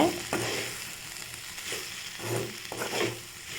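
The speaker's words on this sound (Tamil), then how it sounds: "குழம்பு மசாலா தூள் எல்லாத்தையும் நல்லா சேர்த்து நல்லா வதக்கிக்கோங்க நல்லா மிக்ஸ் பண்ணிவிட்டு நல்லா கிளறிக்கோங்க" Curry masala powder sautéed in a pan for an okra and lentil dish, with a close sizzling hiss and a few repeated scraping strokes of a spoon at an even pace.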